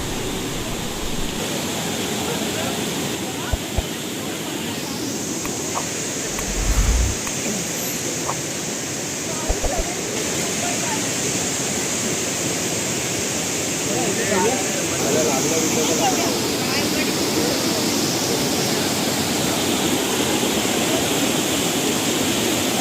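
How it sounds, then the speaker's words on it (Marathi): Savatkada waterfall near Rajapur in Ratnagiri, Konkan, one of the region's largest falls, sends a constant broad roar of forceful water that fills the whole stretch, with voices occasionally heard beneath it. "तुम्ही इथे पाण्याचा एकदम गर्जन ऐकू शकता तेवढं पाणी फोर्समध्ये आहे"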